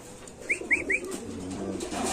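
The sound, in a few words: pigeons cooing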